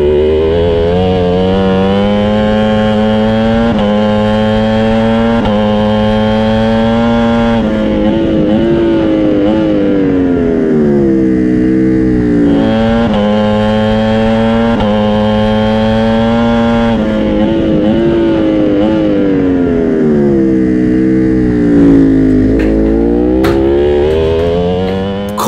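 Ducati racing motorcycles scream at high revs in a video game race, a loud, continuous engine whine that rises and dips in pitch through repeated gear changes.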